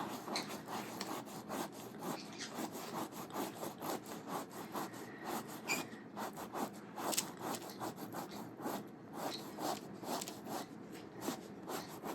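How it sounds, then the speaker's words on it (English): Dried acrylic paint is rubbed off a transfer by hand, giving a close, quiet, rhythmic rasping scrub of quick strokes that continues steadily throughout with no talking. "we're just rubbing this and getting the paint off"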